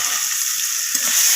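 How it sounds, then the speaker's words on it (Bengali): Fish oil with mustard oil, turmeric and salt sizzling in a hot wok, a constant loud hiss with a short scrape of stirring near the end, no voices. "এরপর আমি নাড়াচাড়া করে দিচ্ছি খুন্তি দিয়ে"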